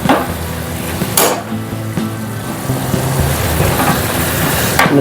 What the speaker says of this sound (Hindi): इसको अच्छे तरीके से भुनाई करनी है